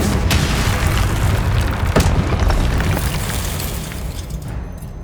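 A spell blast in Hogwarts Legacy erupts as a loud, close boom with a sharp crack near the start of the clip. A rumbling roar follows and slowly fades away.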